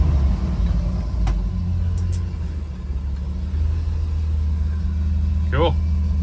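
Jeep Wrangler YJ with a manual transmission, its engine held up by a hand throttle, running as a steady low rumble that builds slightly while the vehicle rolls, with a brief voice near the end.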